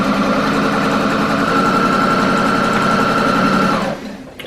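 A sewing machine runs steadily, stitching knit fabric held stretched as it feeds, a loud continuous mechanical whir that stops abruptly near the end, with no talking.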